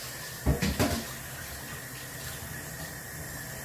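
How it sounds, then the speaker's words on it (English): Salted soaking water is poured off green plantains into a kitchen sink. A few splashy gushes open the sound, then a steady faucet stream runs for the rinse, fairly close and moderately quiet. "Pour out the water and the salt, and I'm just going to rinse this out."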